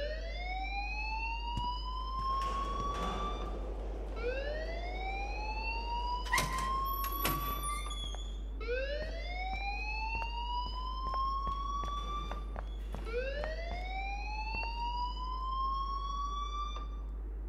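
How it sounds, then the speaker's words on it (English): An alarm in the video game Life is Strange, wailing in repeated rising whoops, each sweep climbing in pitch about every four seconds, with a few sharp knocks and clatters between. "please turn off that alarm"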